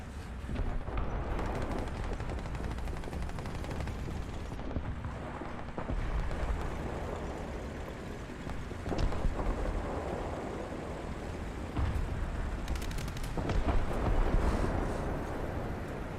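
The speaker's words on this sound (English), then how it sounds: "Got to be 4 or 5 AA guns that's shooting at me." Several anti-aircraft guns fire in a tank video game, heard as a dense, continuous rumble of blasts and booms with rushing wind-like noise, a few sharper reports standing out near the end.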